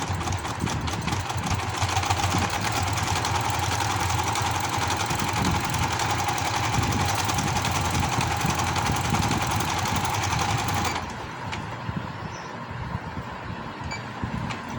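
Sewing machine stitching palazzo trousers, a steady fast mechanical whir and rapid needle clatter running continuously and loud, then easing to a softer, slower hum near the end.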